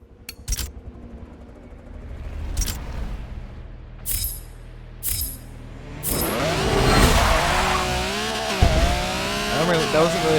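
Video-game drag car launch in a rear-wheel-drive drag build: clicks and bursts, then from about six seconds a loud rising engine roar with tire squeal that climbs through gear changes.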